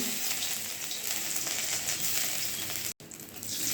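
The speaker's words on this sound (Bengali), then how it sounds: "একটু আদা দিলাম," Ginger drops into hot oil in a wok while a mixed vegetable dish is being cooked, giving a steady close sizzle and crackle with one momentary break.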